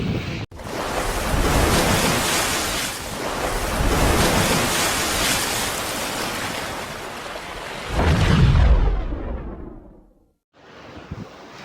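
Sea waves break on the shore of a Kerala coast, a loud rushing surf that swells and fades in long surges, mixed with gusty wind buffeting the microphone.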